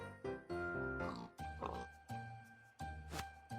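A video game pig oinks in short repeated grunts, several separate squeals spaced across the moment, clear and close.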